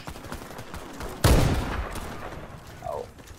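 A single loud gunshot burst from the shooter game Warface stands out against low background noise, followed by a faint trailing tone.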